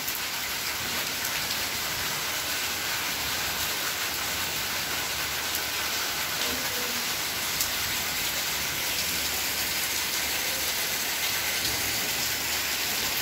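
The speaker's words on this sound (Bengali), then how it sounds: "বৃষ্টি হইতেছে।" Steady rain pours down in a village after a long dry spell, a dense, even hiss of drops on surfaces that holds constant without pauses and with no voices.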